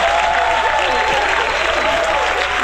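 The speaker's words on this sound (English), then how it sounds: "I can't believe you're cheering." A live comedy audience cheers and applauds steadily, a dense wash of clapping with whoops that stays loud and close throughout.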